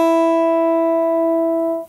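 One open guitar string is plucked once and rings clear and close, sustaining a bright tone that decays slowly for nearly two seconds before cutting off.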